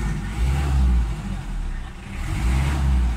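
A Mitsubishi Adventure diesel engine idling near at hand with a rough, swelling hum that rises and falls slightly but never climbs into a real rev, as if held back by a fault.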